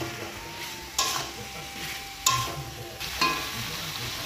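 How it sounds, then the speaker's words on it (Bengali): Meat curry with potatoes being stirred and sautéed in a pot, a steady close sizzle broken by several scraping stirs of a utensil against the metal. "ভালো করে নাড়াচাড়া করে নিলাম, এখন ঢাকা দিয়ে দিই, আস্তে আস্তে কষাই।"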